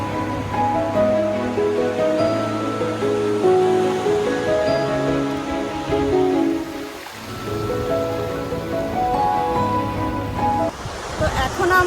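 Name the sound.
sea waves at Udaipur beach near Digha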